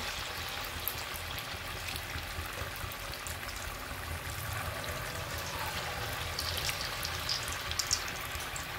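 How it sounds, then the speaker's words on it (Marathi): Rice pakoras deep-frying in oil in a kadai, a low, steady bubbling hiss with faint crackles, continuous and fairly quiet. "आता एवढे मी तळून घेते आधी।"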